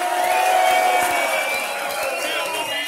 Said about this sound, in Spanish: un fuerte aplauso para Dini Boca